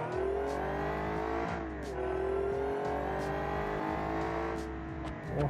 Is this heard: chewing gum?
no